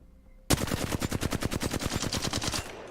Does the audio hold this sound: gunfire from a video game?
yes